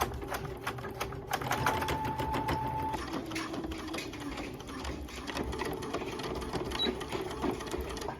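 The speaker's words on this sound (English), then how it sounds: "we're just gonna do 2 stitches here and 1 stitch down here" A home sewing machine stitches through thick fabric layers, its motor whirring and needle chattering in a steady close run with brief changes in pace, with no voices.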